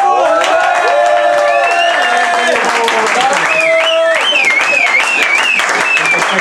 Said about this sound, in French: On va l'applaudir, bravo!